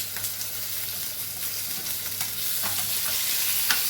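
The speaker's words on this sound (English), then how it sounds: "Our beef is cooking, coming out great." Beef sizzles and crackles steadily on the grill, a constant close hiss with scattered pops and no talking.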